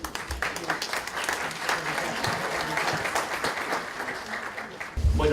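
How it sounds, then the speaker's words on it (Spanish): Warm audience applause greets a speaker at a law symposium on education, dense steady clapping filling the room for about five seconds, with a low thump near the end. "a quien recibimos con un caluroso aplauso"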